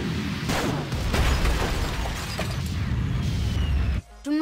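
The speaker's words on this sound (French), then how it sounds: "les explosions sont en 3D et elles génèrent une lumière dynamique" Explosions rumble and crackle in the video game Quake II, with repeated booms and bursts over dense mechanical game noise that continues throughout and briefly drops out near the end.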